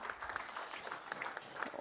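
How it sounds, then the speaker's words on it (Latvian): Audience applause greeting a speaker at an investment forum, a steady patter of many hands clapping, fairly faint and distant, with no talk over it. "lūdzu sagaidiet ar aplausiem Lienu Dubava"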